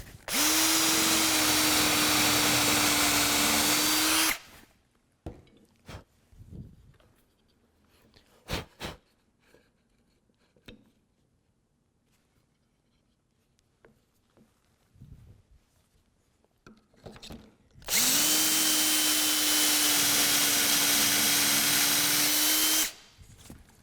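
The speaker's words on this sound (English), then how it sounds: "And I have a drill bit with a stop collar on it." A power drill fitted with a stop-collar bit bores into a wooden table leg for dowel pins. It makes two sustained, loud whirring bursts of about four seconds each, separated by a stretch of quiet handling noises.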